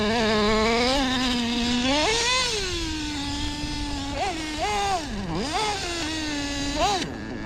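A Redcat Earthquake nitro RC car engine screams at high pitch up close, its whine rising and falling sharply through repeated revs and bursts of acceleration, with faint voices underneath.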